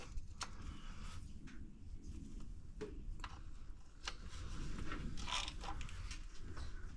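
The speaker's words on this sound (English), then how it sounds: "Just make sure you hit all the bolts and that you get them all tight." A wrench tightens the transmission pan bolts on a two-door 2021 Jeep Wrangler JL, giving quiet, close ratcheting clicks and sharp metallic ticks at irregular intervals over a faint background hum.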